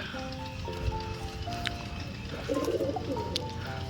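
Pigeons bathing in a shallow water dish at a loft, with soft fluttering and splashing under a low background hum and a few faint coos and whistle-like calls.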